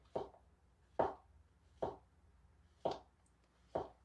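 A knife slices through a vegetable on a cutting board in five distinct, evenly spaced chops, each a quiet, crisp thud close by with near silence between strokes.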